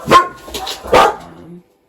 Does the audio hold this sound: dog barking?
yes